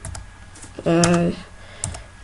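Digits are typed on a computer keyboard while filling in a Minecraft sign, heard as a few quick, close key clicks, followed by a short tonal game sound.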